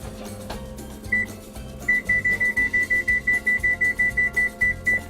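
A kitchen timer beeps in a steady repeated pattern of short, loud tones, first once, then continuously, over low kitchen background noise in a cooking setting.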